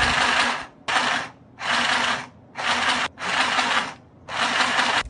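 Coverstitch sewing machine stitching fabric: six loud, close bursts of rapid mechanical whirring, each about half a second to a second long, separated by brief pauses.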